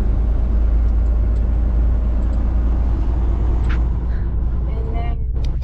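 A Peterbilt 389 truck cruises with a deep, steady engine rumble filling the cab, loud and constant, while people talk briefly over it.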